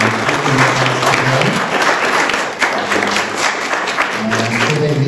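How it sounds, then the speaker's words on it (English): Loud, dense applause from an audience at a parish forum on living with ALS, sustained throughout with voices talking beneath the clapping. "Let's give Peggy and Jim a round of applause"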